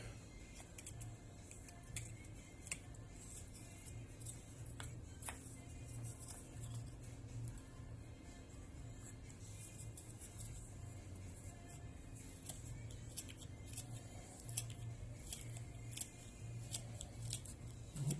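A broc knife trims a carved wooden net needle in quiet, close, irregular little snicks and scrapes over a faint steady background hum, with no talking.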